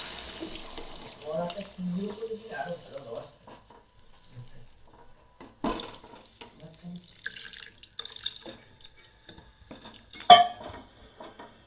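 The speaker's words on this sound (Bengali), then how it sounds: "এবার আমি জল দিয়ে দিলাম।" Water poured into an eggplant sour-spicy curry cooking in a pan, a soft splashing and running sound with a louder splash near the end, among quiet kitchen clatter and brief stretches of faint talk.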